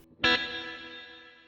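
A single sharp guitar strum passes through a Headrush small plate reverb, a bright, loud attack followed by a shimmering tail that decays smoothly over about a second.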